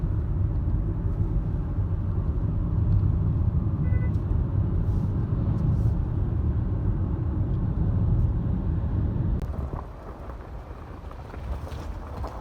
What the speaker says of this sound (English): we're driving through the Valley of the Gods, and it's really bumpy